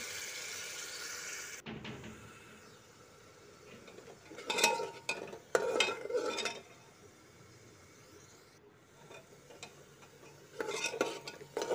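Ridge gourd and masala are stirred and roasted in a pan for a spicy bhaji, with quiet intermittent bursts of spatula scraping and clinking against the pan over a low background.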